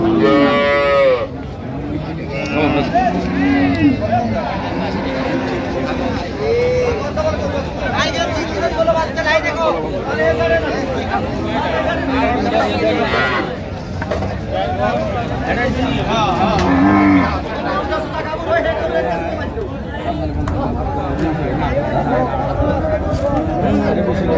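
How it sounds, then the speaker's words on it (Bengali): Dairy cows and calves at Raniganj cattle market in Dinajpur low and moo repeatedly, some calls close and loud, others farther off, over a constant hubbub of crowd chatter and people talking. "গাভী বাছুর।"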